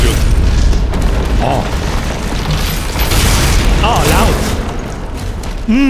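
Loud, dense game explosions from a Stone Imp blowing apart under a shield charge in DOOM: The Dark Ages, with booming bursts filling the whole stretch and someone talking over the action.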